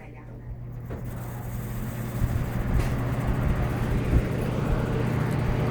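A dirty vintage 1980s Lakewood box fan from JC Penney runs on its high setting, its steady whooshing hum with a low motor drone building up from a quieter start and then holding constant and fairly loud.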